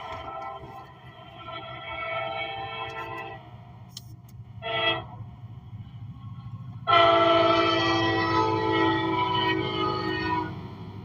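An SD70AC freight locomotive, running alone at the head of its train, passes with a low continuous rumble and long, loud blasts of its multi-tone horn, separated by one short toot.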